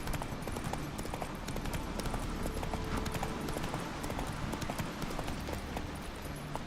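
A horse gallops in The Witcher 3: Wild Hunt Next-Gen, its hooves clopping in a fast, steady rhythm that sounds close and fairly loud over low game background noise.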